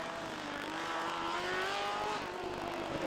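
A petrol Formula SAE race car runs on track during an endurance event, its engine a steady, faint, distant drone that rises slightly in pitch as it drives past.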